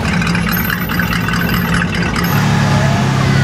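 An Opel Ascona classic car's engine runs close by with a rough mid-low rumble, rising slightly as it revs toward the end, at a classic car meet in Berlin.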